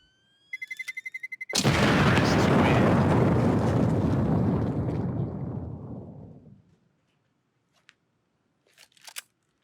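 A planted bomb in the CS:GO video game gives a rapid run of beeps, then detonates in a loud, booming explosion whose roar lasts several seconds before fading, followed by faint clicks.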